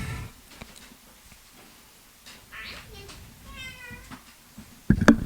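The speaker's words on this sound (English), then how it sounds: "you hear that cat in the background" A cat meows repeatedly in the background of an indoor room, its cries rising and falling in pitch, with faint talk and bumps around it and a sudden louder knock near the end.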